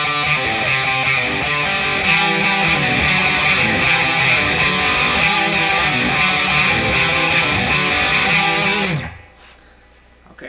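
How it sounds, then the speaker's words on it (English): Two layered distorted electric guitar parts play together through a looper pedal, a fast, dense galloping harmony that runs steadily before cutting off abruptly near the end. "I'll store it on my looper pedal, then I'll play the second one over the top of it so you can hear how they both sound together"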